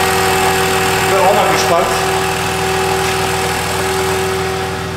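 Engine of a BMW 325 convertible with a newly fitted cylinder head running steadily at idle before a test drive, a constant close hum throughout with someone speaking over it.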